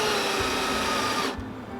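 A cordless drill bores bolt holes during an Astro van camper conversion, its loud, steady motor whine running continuously and then dropping off abruptly near the end.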